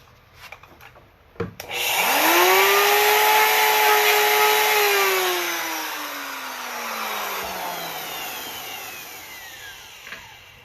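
Wood router hogging out cavities in a wooden workpiece, a loud whining motor that spins up sharply, holds a steady high drone while cutting, then slowly winds down toward the end, with no talking.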